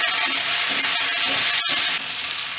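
Tomatoes frying in a pan give a brief, close, steady sizzle and hiss, broken by a faint clink partway through and easing slightly at the end.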